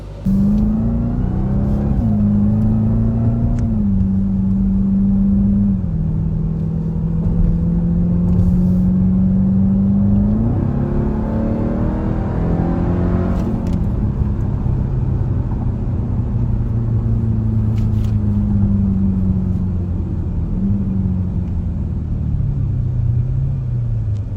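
A 2024 Dodge Durango SRT Hellcat's engine rumbles loudly and continuously while driving, its pitch climbing and then stepping down at several gear shifts, with no voices over the deep exhaust drone.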